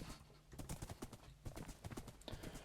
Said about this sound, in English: Riding around on a horse in Minecraft is ideal.